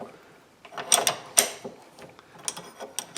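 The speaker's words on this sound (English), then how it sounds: "Now we have a lock nut. Need a wrench for this one." A wrench working a tight lock nut loose on a Sturmey Archer bicycle hub during disassembly, close metallic clicks and ratcheting scrapes in irregular bursts, quiet between them.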